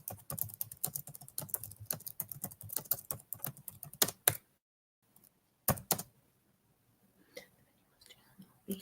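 Someone types on a computer keyboard in quick bursts of clicking keys, stops briefly, then taps a few more keys, with soft whispering heard alongside.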